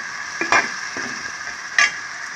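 Onions stirring and sizzling in a pan for a mutton drumstick curry, a steady soft fry with two sharp scraping stirs, quiet and close with no talk.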